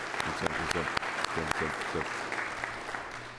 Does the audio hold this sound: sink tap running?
no